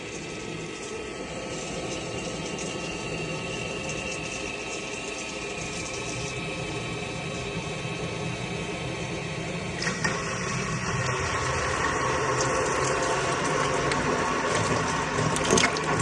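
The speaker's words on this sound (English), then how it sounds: "Let's see how much it pumps out to the bottom." A 12V Milwaukee pump converted to run on a Makita battery pumps water with a steady motor drone and running-water hiss, shifting slightly in tone partway through as the water level drops.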